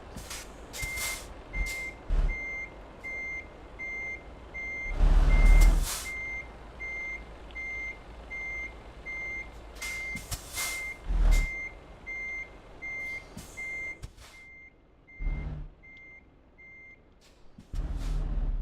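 Truck reversing alarm beeping in a steady, evenly spaced series while backing a trailer, with louder engine and air-brake bursts rising and falling around it.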